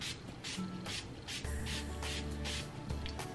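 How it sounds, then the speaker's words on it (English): A fine-mist spray bottle, a cosmetic product of 2.7 fluid ounces, gives several quick, soft hissing sprays in a row, close and fairly quiet, with no talking. "Let me try and spray, actually."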